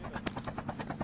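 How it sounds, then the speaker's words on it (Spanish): A helicopter's rotor throbs in rapid regular pulses, close and fairly loud, in a short burst outdoors. "Sigamos el helicóptero"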